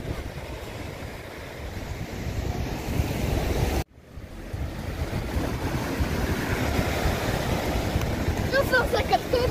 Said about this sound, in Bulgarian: Според мен има вятър и морето обаче.